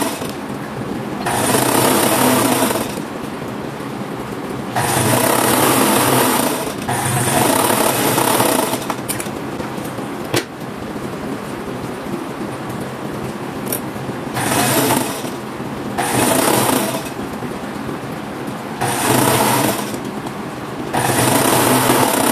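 A sewing machine stitches the side seams of women's tailored shorts in repeated loud, close bursts of rapid mechanical whirring, each lasting a couple of seconds, separated by quieter pauses.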